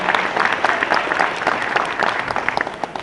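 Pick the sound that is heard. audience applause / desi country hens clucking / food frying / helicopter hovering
audience applause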